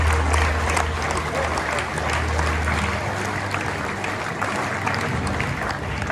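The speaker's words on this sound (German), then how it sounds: "Ein riesengroßer Applaus und merci viel" A crowd at a Swiss Red Holstein cattle championship show claps in a dense, continuous wave of applause that stays loud throughout, with a low hum underneath.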